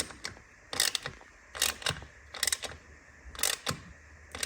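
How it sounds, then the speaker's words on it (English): Screws are evenly tightened on Akrapovic carbon fiber heat shields of a BMW R NineT Racer, a series of quiet ratcheting clicks in short repeated bursts, close but faint, with no talking. "And just evenly tightening them up."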